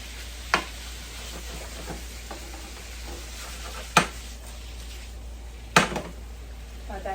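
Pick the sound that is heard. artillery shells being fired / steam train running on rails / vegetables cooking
vegetables cooking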